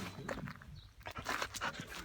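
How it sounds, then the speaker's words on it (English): A dog panting close by, quick rhythmic breaths mixed with soft shuffling movement and footsteps, quiet and heard alone without talk. "She's an intelligent dog."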